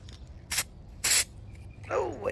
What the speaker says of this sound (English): The farther you spray back, the smaller it's gonna be, and that's what you want.